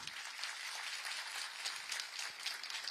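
Applause from an audience at a public event honoring a chief minister, steady dense clapping that sounds faint and distant, with no voices over it.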